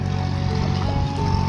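A tractor ploughs a wet paddy field at the start of the rainy season, its engine giving a steady, close, continuous low rumble and churning throughout, with no talk.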